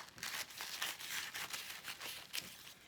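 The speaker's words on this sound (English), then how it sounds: "I'm going to cut down the middle this way, and then I'm going to cut down the middle this way." Scissors cut sheets of tissue paper down the middle for craft butterflies, making quiet rustling snips and crinkles in quick, uneven bursts.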